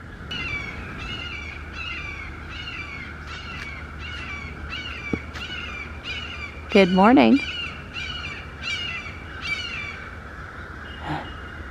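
Crows caw repeatedly in a steady series of harsh calls, with a brief spoken greeting and a louder nearby call partway through.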